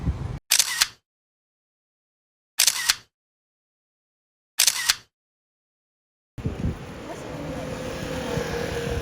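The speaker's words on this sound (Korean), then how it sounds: "이 카페 앞에서 사진 한 장 찍겠습니다." Camera shutter clicks snap out three times in sharp, evenly spaced bursts amid silence, then outdoor street ambience swells up, in front of a cafe in Taipei, Taiwan.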